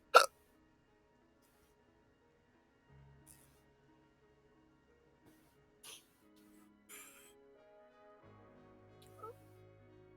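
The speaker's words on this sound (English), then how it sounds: "Oh God, got hiccups." Single sharp hiccup from a man at the start, followed by quieter scattered clicks and faint game sounds with no speech.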